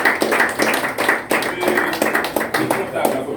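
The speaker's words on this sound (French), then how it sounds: "De mademoiselle ou madame Cynthia Calixte, applaudissements s'il vous plaît." Audience applause at the official launch of an association, brisk uneven hand clapping in rapid pulses lasting a few seconds, with speech mixed in.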